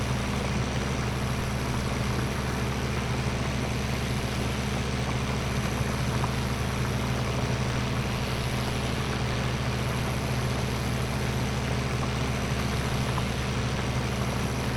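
A Deutz Fahr tractor engine in Farming Simulator 19, a steady low droning hum with a constant even tone that runs unbroken and fairly loud throughout, with no voices.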